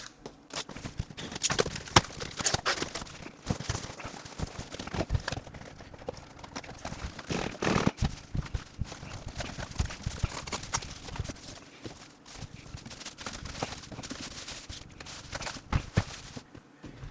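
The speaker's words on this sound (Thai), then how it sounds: "ปกติเคสคูลมาเตอร์มันจะแกะง่ายนะ แต่ไม่รู้ทำไมวันนี้มันแกะยากเหลือเกิน" A Cooler Master MasterBox Lite 3 PC case is unboxed up close, with irregular knocks, taps and rustling as the cardboard box and packing are handled, continuing unevenly throughout.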